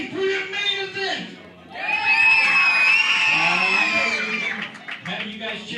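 Cheering and shouting from a crowd at a wrestling show, swelling into a loud sustained roar in the middle, with an announcer's voice before and after it.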